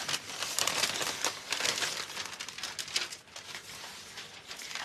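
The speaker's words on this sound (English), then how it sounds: "Tear along there." Paper torn by hand along an edge for a decoupage steampunk woman wall picture, a dense crackling, crinkling rip that runs steadily for several seconds, close and fairly soft, with no voices.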